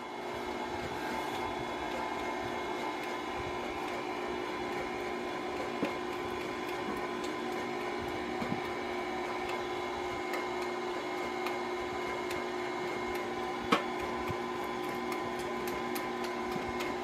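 Electric mixer beating chocolate cake batter from scratch while boiling water is added, its motor giving a steady, even whine with a few small clicks and no voices.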